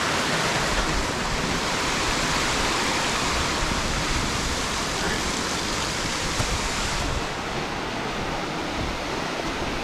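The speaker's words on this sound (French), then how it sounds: "nous voilà au pied de la première fameuse cascade d'Ourika, qui est ma foi assez jolie" Steady, loud roar of rushing water from the first cascade in Morocco's Ourika valley, a broad continuous wash heard up close with no talk, easing slightly near the end.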